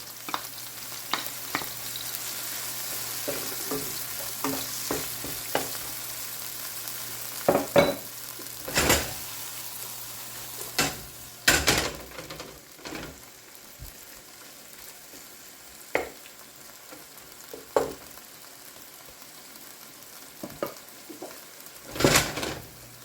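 Olives dropped into a hot frying pan for spaghetti al tonno sizzle steadily, broken by sharp clatters and scrapes of stirring against the pan, with no talking.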